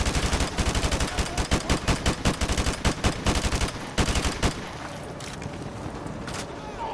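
Automatic gunfire in the video game Modern Warfare 2 Remastered: rapid, loud, close bursts of rattling shots for several seconds, then the firing breaks off into quieter background noise.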